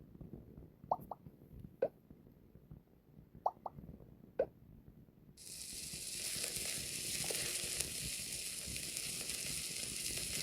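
Lasagna cooks in a pan. A few sharp plops and pops come first over near silence, then a loud, steady sizzle starts and continues without talking.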